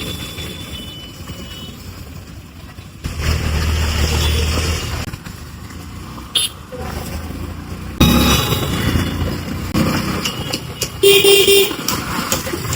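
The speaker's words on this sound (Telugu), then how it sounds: "ఫుల్ ట్రాఫిక్ ఉంటది ఇక్కడ." Dense road traffic on the way to Golconda, with a steady rumble of engines and car horns tooting repeatedly, loudest in bursts near the middle and toward the end.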